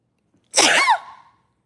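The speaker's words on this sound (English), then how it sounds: "Uh-oh, I gotta sneeze." A single loud, sharp sneeze bursts out after a moment of silence, close and clear.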